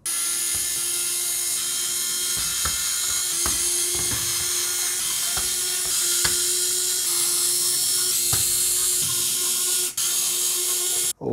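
A powered screwdriver whines steadily while unscrewing the screws of an E-DRA EK368W mechanical keyboard, a loud continuous high motor drone with faint ratcheting clicks throughout, close by and without talk.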